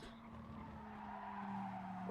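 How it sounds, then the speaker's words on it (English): Tyres squeal steadily as a car slides into oversteer in GT Sport, a sustained whine riding over a constant engine drone for a couple of seconds. "A lot of oversteer there, had to keep it under control before coming off onto throttle"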